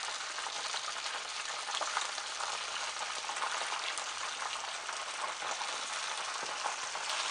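Fish bread rolls frying in hot oil give a steady, dense crackling sizzle that holds evenly throughout, close and continuous, with no talk over it.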